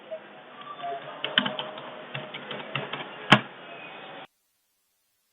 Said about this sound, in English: I'm going to type in my email for the first time